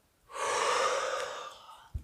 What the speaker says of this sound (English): A mock inhalation, so you're not really breathing in, but you're trying to, and it creates a suction